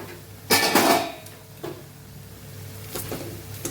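A metal lid lifts off a pot of potatoes simmering for a turiya-bateta (ridge gourd and potato) curry, with one loud close clatter followed by a few softer knocks and clinks in a quiet kitchen.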